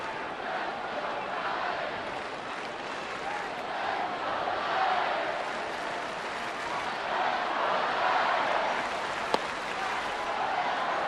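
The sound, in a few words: baseball crowd cheering in the stadium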